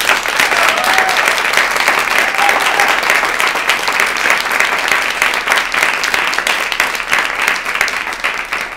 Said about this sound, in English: And let's have another round of applause from that.